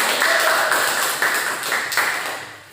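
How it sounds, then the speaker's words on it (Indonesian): A group in a counseling session claps hands together in loud, fairly quick bursts that come in a few rhythmic waves and then fade, with no talking over them. "Beri tepuk tangan kita semua."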